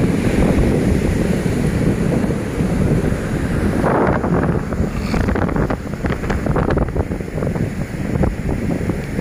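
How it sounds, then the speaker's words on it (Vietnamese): Cool sea wind blows at Lang Van beach, buffeting the microphone in a constant loud roar, with surf washing in beneath the gusts. "Và gió biển mát."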